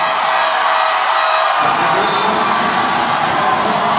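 A basketball arena crowd cheering and roaring at a regional league game between Pangasinan and Nueva Ecija, a loud continuous wash of voices that swells fuller partway through.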